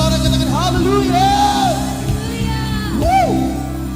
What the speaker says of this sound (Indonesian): Sambil bersorak katakan haleluya.